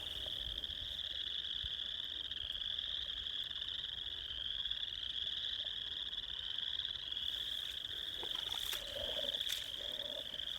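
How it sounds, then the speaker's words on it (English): Several kinds of frogs call together in a spring wetland, a dense, continuous high trilling chorus with scattered lower croaks, heard faintly from some distance with no voices. "The sounds that I heard was 2 or 3 different types of frogs."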